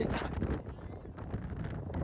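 Strong wind buffets the microphone in a continuous low roar, with possible faint voices underneath.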